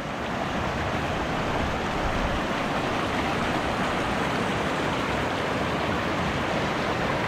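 A stony river rushes in a steady, unbroken broadband roar, close by and even in loudness throughout, with no voices over it.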